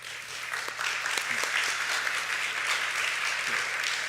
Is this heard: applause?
yes